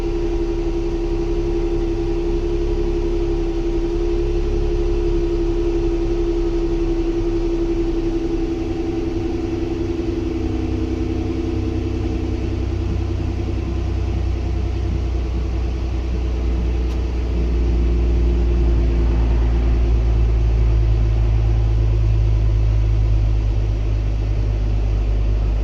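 A 2015 Jeep Wrangler 3.6L V6 idles steadily with a loud, constant low rumble, with a check engine light on and camshaft position sensor fault codes; no one speaks over it.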